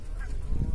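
Loud honking calls from waterfowl at a pond, several birds crying over each other in a short, noisy burst.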